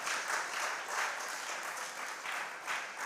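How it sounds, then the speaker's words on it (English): Audience at a school event gives a brief, steady round of applause, heard as a continuous patter of many hands at moderate distance. "Please give yourselves a round of applause."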